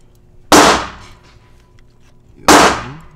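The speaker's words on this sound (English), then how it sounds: "Bro, I want to shoot my Glock too, though." Two loud, sharp Glock pistol shots at a shooting range, about two seconds apart, each with a short ringing decay and no talk between them.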